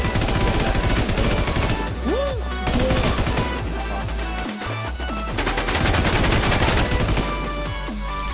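Rapid automatic gunfire in the video game Burning MAN Infestation, loud and sustained bursts of shots rattling almost continuously, with brief lulls and game effects between volleys.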